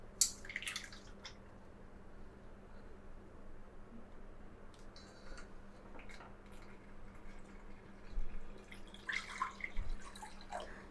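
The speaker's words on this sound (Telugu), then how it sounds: "ఈ ప్రిపేర్ చేసుకున్న ప్యూరీకి వాటర్ యాడ్ చేసుకుంటూ ఫిల్టర్ చేసుకుంటున్నాను." Tomato puree being strained through a filter while water is poured in, soft dripping and trickling liquid with a few louder splashes toward the end, no voices.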